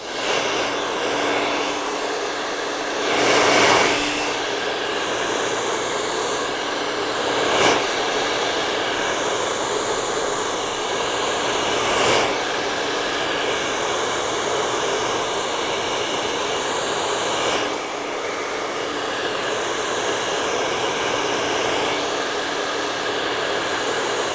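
Blow dryer drying hair while a vent brush works through it, a loud steady close-up whoosh that runs continuously, with slight swells and dips as the dryer is moved.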